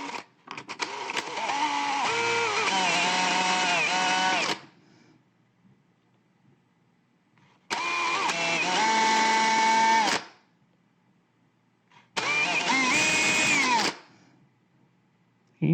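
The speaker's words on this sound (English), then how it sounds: "We're going to go and drill a whole bunch of holes in this thing. 1/16 inch holes going throughout this." Power drill whirs through three separate bursts while boring 1/16 inch holes, each a few seconds long with pitch dipping under load, close and loud with quiet gaps between.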